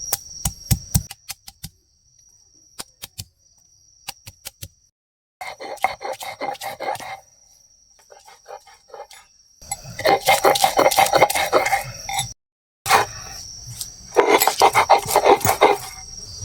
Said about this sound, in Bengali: আমি এবার এখানে আদা রসুনটা বেটে নেব